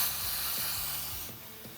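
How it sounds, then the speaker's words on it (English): A can of brake cleaner sprays in steady hissing bursts onto a dirty front brake caliper of a 2008-or-later Harley-Davidson touring motorcycle, the loud close aerosol hiss softening briefly near the end. "I'm gonna take a can of brake clean"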